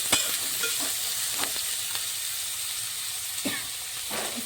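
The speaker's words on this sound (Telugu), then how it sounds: "ఉల్లిగడ్డలు అయితే వేసేసుకున్నాను ఇది మంచిగా గోలే వరకు అయితే ఇలాగే ఉంచుకోవాలి" Onions sizzling in a pan as they cook, a continuous close hiss and crackle with occasional sharper pops and stirring scrapes.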